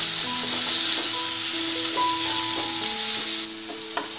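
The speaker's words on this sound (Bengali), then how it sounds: "প্রথমে আমি এঁচোড়গুলোকে ভেজে নিচ্ছি।" Pieces of raw jackfruit frying in mustard oil, a steady, loud, close sizzle that holds continuously throughout with no talk.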